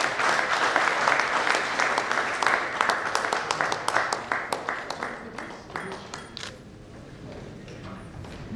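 A crowd applauding, dense clapping that thins into scattered claps and fades toward the end.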